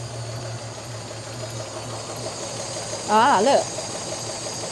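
A Rover P4 engine idles steadily after a carburettor adjustment, a low, even rumble with a short voice exclamation over it near the end.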